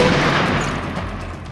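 A burst of gunshots as a sound effect, a dense, continuous rattle of rapid shots at close range with no gaps over a short stretch, fading slightly toward the end.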